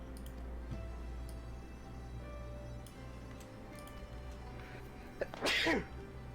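A single sneeze bursts out near the end of a quiet indoor stretch during a gaming stream, short and fairly close, over a low steady background hum with faint ticking.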